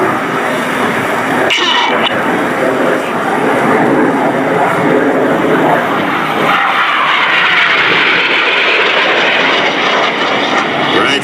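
RAF Red Arrows jets fly at the New York International Air Show, giving a loud, continuous roar that swells and sweeps across the sky, with a commentator's voice faintly beneath it.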